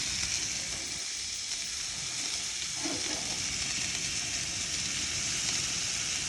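Hamburgers seasoned with garlic, pepper and hamburger seasoning sizzle on a 1950s Sportsman camp stove, a steady, dense frying hiss throughout with one short clatter midway, no voices.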